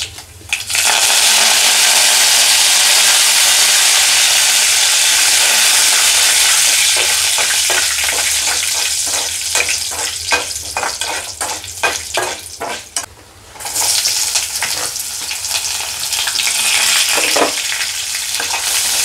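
Chana dal, cumin and mustard seeds fry in hot oil for a tempering, a loud steady sizzle that crackles and pops as they are stirred, dipping briefly before the frying roars on.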